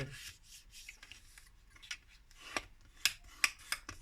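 Soft rubbing and scraping of paper cards being folded in half close up, with several crisp creasing swipes and light taps toward the end.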